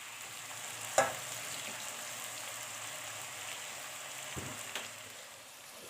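Pieces of tinda (round gourd) fry in half a cup of oil. A soft, steady sizzle runs under a few sharp clicks and taps of a utensil, with no talking.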